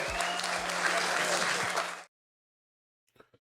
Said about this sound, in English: Go ahead, round of applause for them.